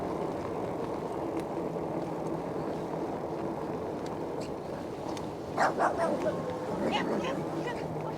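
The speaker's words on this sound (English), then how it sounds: "Some doggies." Dogs bark a few times in the distance, brief yips and woofs rising over a steady outdoor background hum, faint and intermittent rather than continuous.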